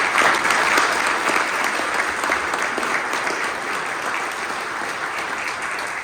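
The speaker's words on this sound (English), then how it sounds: "please, a round of applause for Mr. McLaren." Sustained applause from an audience at an installation ceremony, dense and steady clapping that stays loud throughout before easing slightly toward the end.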